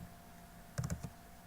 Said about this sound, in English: But let's type in